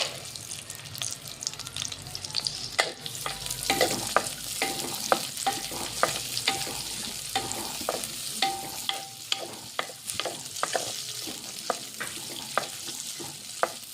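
Almonds, cashews and raisins are warmed in a pan for moong dal halwa, giving a soft sizzle with frequent spatula scrapes and small clinks, close but fairly quiet, with no voices.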